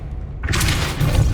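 A spell is cast with a sudden bright whoosh and rumbling boom in the wizarding game Hogwarts Legacy, loud and close, following a short quiet lead-in.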